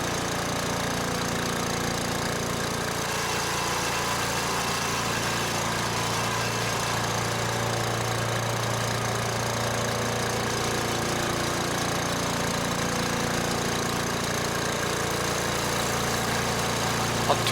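A chipper shredder engine runs at a steady, unchanging drone throughout, loud and close, with no other sounds over it.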